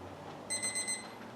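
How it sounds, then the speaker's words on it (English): A yoga class interval timer going off, a quick run of four high electronic beeps in a steady rhythm over a faint room hum, with no talking. "As the timer sounds"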